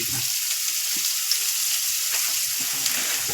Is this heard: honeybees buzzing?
no